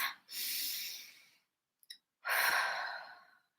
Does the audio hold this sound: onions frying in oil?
no